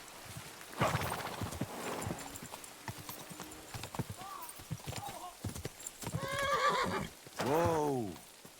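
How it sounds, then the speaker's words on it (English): In the medieval video game Kingdom Come Deliverance II, a horse's hooves clip-clop at a walk before it gives two loud neighs near the end, with a voice speaking briefly in between. "Cavalo."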